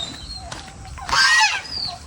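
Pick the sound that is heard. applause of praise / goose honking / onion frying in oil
goose honking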